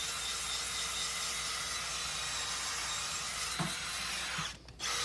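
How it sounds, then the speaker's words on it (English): A spinning hoof buffer cleans and smooths the wall of a horse's hoof, a steady high-pitched motorized whir with gritty abrasive noise, close and continuous, with a brief dip near the end. "When using a hoof buffer to clean the hoof wall, make sure it is spinning in a direction that is going down the hoof wall."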